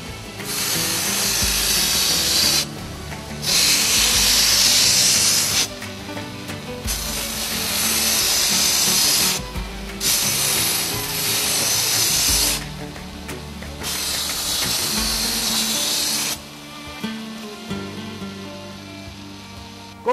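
A knife-making belt sander grinds steadily, its loud hissing abrasive roar running in long bursts separated by brief pauses, with no talking over it.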